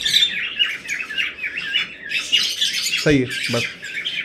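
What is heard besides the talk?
opaline budgerigar chicks chirping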